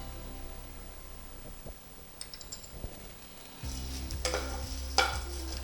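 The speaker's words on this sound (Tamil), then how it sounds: "நல்லெண்ணெயை விட்டு இப்போ தான் வறுக்கிறேன்." Sesame oil sizzles gently in a nonstick pan as ingredients for kadamba rice are fried and stirred with a spoon, with soft scraping and clicking strokes that grow busier and louder toward the end.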